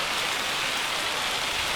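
Rain in the Farming Simulator 25 video game, a steady loud hiss of falling rain with no breaks and no one talking.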